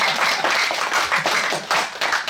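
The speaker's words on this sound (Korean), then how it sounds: "박수 한번 보내드리겠습니다" An audience at a Sunday Buddhist temple service gives a round of applause, a dense, steady wash of many hands clapping for about two seconds with no voices over it.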